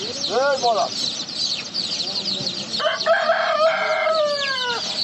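A rooster crows loudly nearby at a poultry market in Nookat, a short call first and then a long drawn-out crow, with other farmyard clucking in the background.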